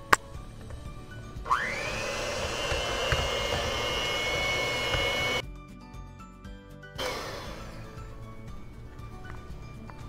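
An electric mixer beats soft, room-temperature butter at low speed, a steady whirring motor drone that runs for several seconds, stops abruptly, then starts again, close and fairly loud.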